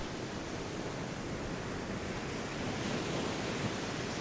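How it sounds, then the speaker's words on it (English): Soft ocean surf washes continuously in the background, a faint, even, unbroken roar with no distinct breaks between waves and no voices. "allowing the waves to crash slowly into your being"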